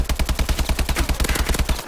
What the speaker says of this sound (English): going into that gunfight weak already was not going to help me out one bit at all